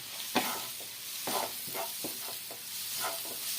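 Vegetables being stirred in a pan with Kashmiri chilli powder and garam masala, a soft sizzle underneath and several scraping stir strokes at an uneven rhythm, close by, with no talking.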